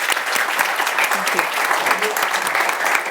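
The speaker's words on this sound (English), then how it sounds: "A big round of applause for the ambassador." Applause from an audience at a transatlantic relations event, greeting an ambassador after remarks: dense, steady clapping throughout, fairly loud and close, with scattered voices mixed in.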